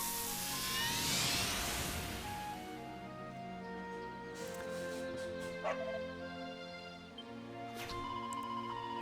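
Dog barks and yips from the video game Dragon Quest XI, mixed with bright game music and effects, with no talking in between.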